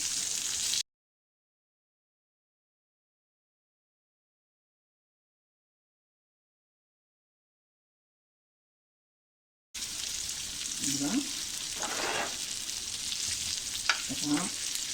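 Saundale fish fry at home, the fish sizzling and spattering in a pan of hot oil, Malvani style. A brief burst of frying opens, a long silence follows, then a steady crackling sizzle returns with a few louder pops.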